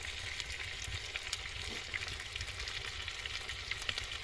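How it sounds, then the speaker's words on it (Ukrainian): Bone-in chicken thighs sizzle and crackle in hot oil, a steady close hiss with scattered pops. "Тепер смажимо курячі стегенця."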